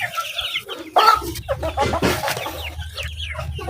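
Four-day-old turkey and chicken chicks along with ducklings cheep and peep in a busy, overlapping chorus, close by, with a low rumble underneath.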